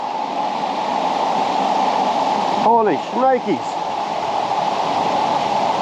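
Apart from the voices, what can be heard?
flowing creek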